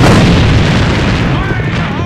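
A grenade blast in the shooter game AVA, a loud, close boom filling the whole moment and rumbling away over about two seconds, with a voice briefly audible near the end.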